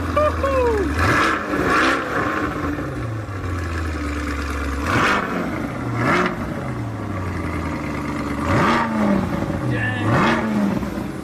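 A 2023 Corvette C8 being rebuilt after a wreck, running without its exhaust system, revs hard several times from a steady idle, each rev rising and falling sharply, close and loud, with people talking around it.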